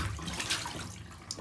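Dirty yellow water pours out of a container in a short, steady splashing gush, like a tap or sink running, with no voices.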